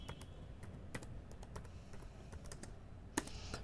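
Someone types a name on a computer keyboard in quick, irregular keystrokes, quiet and close, with one sharper key press near the end.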